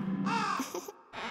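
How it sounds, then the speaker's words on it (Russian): Crows cawing in the video game Happy Game, two loud harsh caws close by, the first longer and rasping, the second shorter after a brief gap, with no talking. "Вороны трупов доедают"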